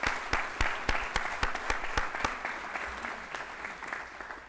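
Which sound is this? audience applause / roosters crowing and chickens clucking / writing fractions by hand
audience applause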